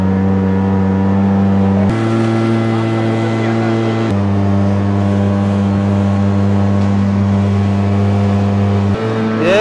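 A motorboat engine drones loudly and steadily while cruising on Mangla Dam, a constant close hum with shifts in pitch as it changes speed, and people talk over it.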